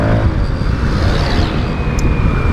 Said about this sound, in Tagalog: ayun nga yung tunog ng R15 with AC project na